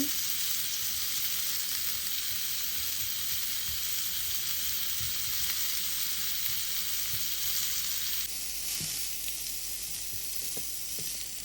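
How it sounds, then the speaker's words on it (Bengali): Chicken shashlik pieces fry in hot oil, giving a steady, close sizzle that runs unbroken throughout with small crackles and no voices. "পরের চিকেনগুলো আমি তেল দিয়ে ভেজে নিচ্ছি"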